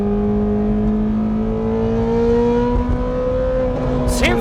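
A Ferrari with a custom exhaust revs in first gear, a loud, steady engine drone slowly rising in pitch, heard from close by with a brief whine near the end.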